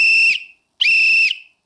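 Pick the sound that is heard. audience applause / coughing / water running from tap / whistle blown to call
whistle blown to call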